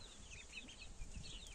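A broody hen clucks softly among her small chicks, including a ginger chick, in a backyard coop. Quiet, continuous low clucking runs through the clip, with faint high peeping from the chicks and no talk.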